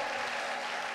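A church congregation claps and cheers in a dense, continuous burst of applause filling the whole brief moment.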